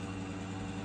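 A two-stroke motorcycle engine idles steadily after carburetor adjustment, a faint, even low hum with no speech.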